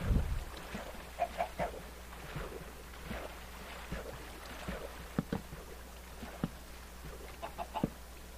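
Chickens on a Minecraft chicken farm cluck in short scattered bursts, moderately close, over a low steady background hum with no talk.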